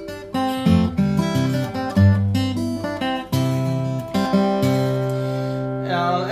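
Guitar picking a song melody with bass notes on open strings, a bright, close, solo line of plucked notes ending on a ringing sustained chord.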